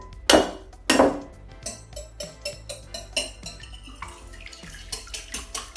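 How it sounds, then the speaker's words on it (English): Eggs cracked into a big mixing bowl for nut-free zucchini bread: two sharp taps against the rim, then a run of light clinks, drips and small knocks of shell and bowl, close and alone. "grab yourself a nice big mixing bowl and crack your eggs"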